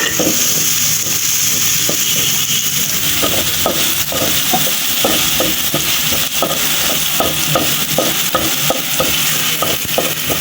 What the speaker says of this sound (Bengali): প্রথমে তেলে দিয়ে দেওয়া হলো পেঁয়াজ আর রসুন কুচি। এখন এগুলারে সুন্দর করে ভাজা ভাজা করে নিব।